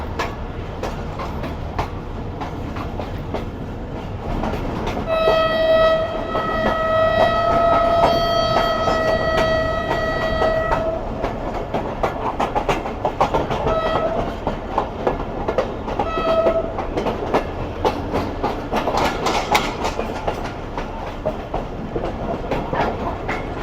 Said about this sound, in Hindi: ट्रेन हमारे रुक रेलवे स्टेशन पर रुकने के बाद आगे बढ़ रही है लाड़काना की तरफ